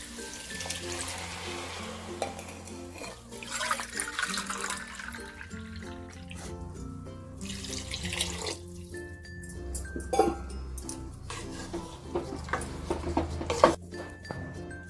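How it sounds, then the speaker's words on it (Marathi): Water is poured from a bowl onto rice in a pressure cooker while making masale bhaat, soft splashing and trickling heard intermittently under continuous background music. "ह्या वाटीने आपण तांदूळ घेतले होते ह्याच वाटीने आपण पाणी घ्यायचंय"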